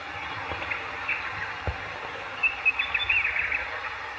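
Small birds chirp at a distance, scattered thin tweets that cluster into a quick twittering burst, over a quiet outdoor hush with a couple of faint knocks.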